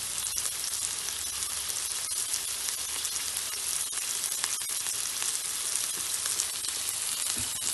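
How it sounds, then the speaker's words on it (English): Beef sears in a hot pan with a steady, loud, close sizzle and crackle that runs unbroken throughout, with scattered sharper pops and no talking. "Look at that sizzle."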